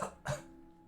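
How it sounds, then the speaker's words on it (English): Two quick coughs from a third character in a video game, close and faint, the second slightly heavier, then quiet. "Every now and then the coughing of this third person"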